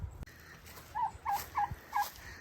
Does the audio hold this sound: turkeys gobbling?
yes